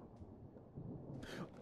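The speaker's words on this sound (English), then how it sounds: "Thunder!" A short rumble of thunder plays as ambience in a horror video game set in a church confessional, low and moderately loud, with a brighter crackling burst near the end and no speech over it.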